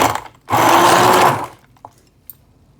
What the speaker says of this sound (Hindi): चलिए अब मैं इसे ब्लेंड करती हूँ।